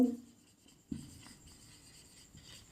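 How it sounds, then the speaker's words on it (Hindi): Chalk or marker writing an example on a classroom board makes a soft, close scratching and tapping that runs steadily for a few seconds, with no voice over it. "एग्जाम्पल आगे लिखते हैं"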